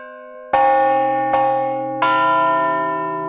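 Three large church-style bells from a bell concert ring one after another, each struck strike ringing out with long overlapping harmonic decay, clear and resonant with no voices.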